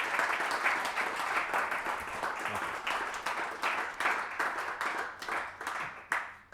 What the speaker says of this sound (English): Can we get one more round of applause for Ben Thomas?